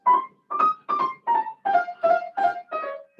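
A voice imitates rushed left-hand piano playing, giving eight quick, even, pitched syllables that hurry along one after another, close and fairly loud with no instrument behind them.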